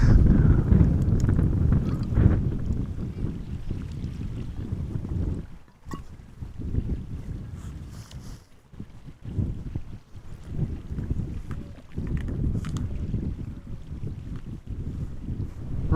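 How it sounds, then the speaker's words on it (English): Strong wind buffets the microphone outdoors at Amsterdam Schiphol Airport, a loud low rumbling roar that surges and eases in gusts for the whole stretch, dipping briefly before building again. "Now the wind has slowed down a little bit, but definitely not significantly."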